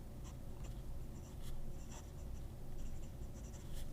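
A fountain pen with a medium Kegeloo nib scratches softly across paper in short strokes, close and quiet over a steady low background hum, with no talk.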